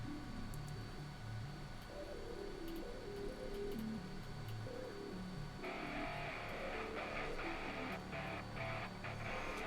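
A 3D printer running in a room while printing a Gamora sword prop: a steady low fan whir with stepper-motor tones and light ticking. The hum grows a little brighter partway through, with no voices.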